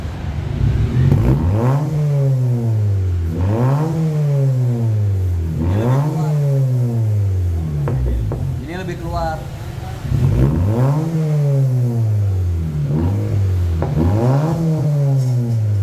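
Motorcycle engine fitted with an aftermarket resonator exhaust revs hard in repeated rising bursts, about six throttle blips each climbing and falling, loud and close with brief idle gaps between.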